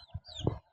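Local chicken chicks give a couple of short, soft clucks in quick succession, faint and brief.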